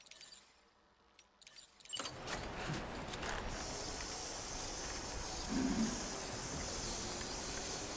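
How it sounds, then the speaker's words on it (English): A repair spray in the video game Death Stranding 2 lets out a loud, steady hiss that starts abruptly and keeps going unbroken for several seconds. "Repair spray, repair spray."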